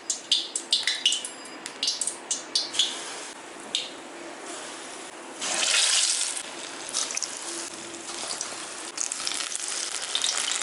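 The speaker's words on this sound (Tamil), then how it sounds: "நம்ம கலந்து வச்ச வாழைப்பழம் மைதாலாம் சேர்த்து கலந்து வச்சதை இப்போ பொரித்து எடுத்துக்கலாம்" Banana and maida batter drops into hot oil in a kadai, bursting into a loud, steady sizzle with bubbling and a few sharp clatters early on; no talking.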